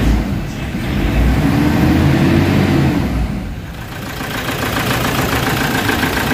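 A Toyota Fortuner engine with low power that stalls, running steadily close by as revs rise and dip, a mid-pitched rumble and hum with no talk over it.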